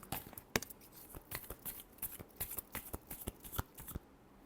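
Tarot cards being shuffled close up: a quick irregular run of crisp riffling slaps and flicks, quiet and with no talking.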